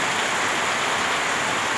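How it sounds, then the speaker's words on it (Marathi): Heavy continuous rain pours down in July monsoon weather, a loud, dense, unbroken roar that stays steady throughout, with no voices. "सतत पाऊस चालू आहे"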